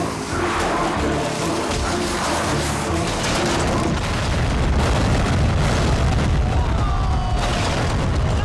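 Explosions in a Hindi-dubbed action movie: a dense, continuous roar of blasts and booming debris with crackling bursts layered through a loud, full action soundtrack.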